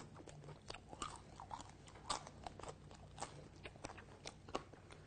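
Crunchy bites into crispy air-fried chicken wontons, a string of quiet, close crackling bite and chewing sounds repeating irregularly with no talk.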